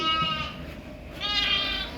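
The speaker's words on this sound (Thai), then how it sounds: "นี่ครับคือผลงานที่เลี้ยง แกะเบบี้" A month-old baby lamb bleats twice, two loud, near, wavering cries separated by a short pause, with no talking.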